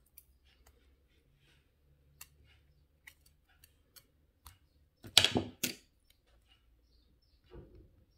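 Small clicks and ticks of handling jewellery wire for a heart pendant, then a short, close snipping burst as a single wire is cut off, with quiet taps afterward and no talking.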